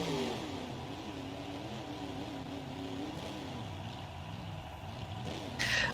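Monster trucks roaring around an arena with jumps, engines droning and surging continuously at close range, a sharper mechanical burst near the end.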